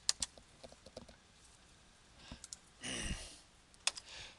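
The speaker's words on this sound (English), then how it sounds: "I'm just going to type over this." Fingers tapping on a computer keyboard in short, sparse clusters of quiet clicks, with a brief faster flurry near the end, heard close but faint in an otherwise quiet room.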